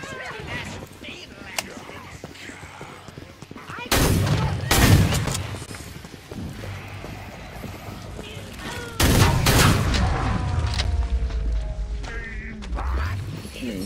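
Heavy gunfire from a powerful gun in Killing Floor 2, loud blasting bursts cutting through a busy game mix with a voice talking over parts of it.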